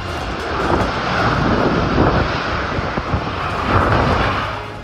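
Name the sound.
strong wind and rain of super typhoon Julian in Basco, Batanes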